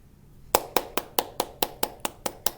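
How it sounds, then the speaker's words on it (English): Ten sharp hand claps in a steady, even rhythm, close and crisp, with no talking over them. "Can you clap?"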